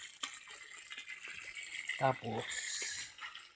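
Cooling water runs from a tank in a homemade still used to distill liquor from sasa palm sap, a brief gushing trickle heard under short bits of talk.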